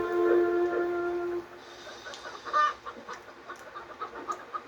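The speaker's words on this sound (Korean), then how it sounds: "이윽고 닭들은 꼬꼬대거리면서 노래를 했죠" Chickens cluck and squawk in a restless run of short calls, preceded by a loud sustained tonal sound, heard up close with no speech.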